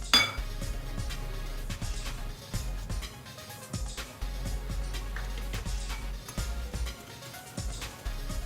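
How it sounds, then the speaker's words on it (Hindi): Continuous clinking and scraping of a utensil against a bowl while powdered sugar is mixed into vanilla sponge cake batter, steady and close with repeated soft knocks. "थोड़ा थोड़ा करके मैं इसमें ये ऐड करूंगी और इसे मिक्स करती जाऊंगी"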